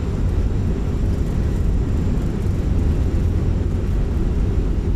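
Airbus A319 thrust reversers roaring after landing in a flight simulator, a loud continuous low engine rumble holding steady throughout with no talking.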